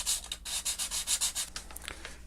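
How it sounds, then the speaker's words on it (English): Light sanding across a tool's surface, a run of rhythmic hand strokes giving close, raspy scratches with brief pauses between passes, heard alone without talk. "just going to lightly sand the surface here"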